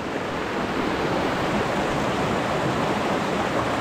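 A full river rushes steadily through a rocky canyon stretch on a trekking route near Morro Grande, Santa Catarina, a constant close broadband roar of flowing water with no breaks and no voices.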